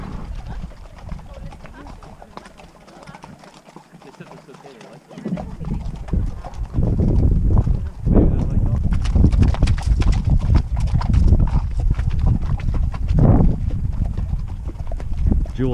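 Horse hooves clip-clop in a steady rhythm during a horseback ride over open terrain, growing louder after a quieter stretch, with riders talking over the hoofbeats.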